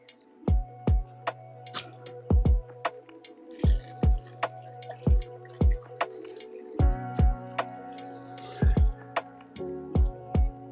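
Water is poured onto outdoor cannabis plants to saturate the soil, producing close, regular splashing thuds and dripping sounds in a repeating rhythm, with a steady tonal hum underneath.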